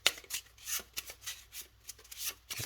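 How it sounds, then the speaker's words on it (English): A deck of game cards is shuffled by hand during a solo tabletop card game, a rapid series of crisp riffling bursts and soft rubbing, close and clear with no talk. "We'll shuffle up."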